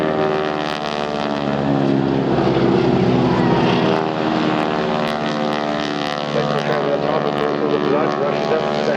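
Aerobatic propeller aircraft at the Eastbourne airshow roar overhead in a steady, loud engine drone with shifting harmonic tones, joined by a commentator talking over it throughout.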